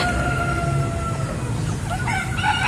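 Chickens cluck and a rooster crows against a busy outdoor background, several birds calling at once at moderate volume.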